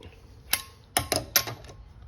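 A hand ratchet clicking in short bursts while tightening the rear brake bolts of a 2015 Honda CR-V during a pad and rotor job, close and fairly quiet, with about four distinct clicks.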